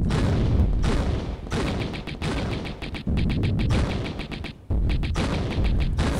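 Rapid bursts of Uzi gunfire from a Tomb Raider level, loud and close, with several sharp volleys separated by brief pauses and no talking.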